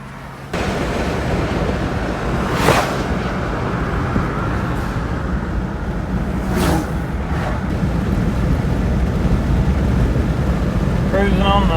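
A cheap used Jeep cruising on the Hal Rogers Parkway near London, Kentucky, with a constant loud road and wind roar from inside the vehicle and a couple of brief swells from passing traffic.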